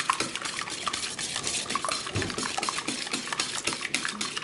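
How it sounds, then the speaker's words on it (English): Eggs whisked in a bowl for crepe batter, a steady rapid clatter of whisk against the bowl running throughout at close range, with no talking. "And we whisk them up"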